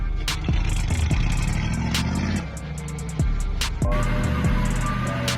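Supercharged Ford 5.0 truck V8 fitted with a Whipple blower, revving loud and close in repeated rising bursts with a heavy low rumble and sharp intake whine.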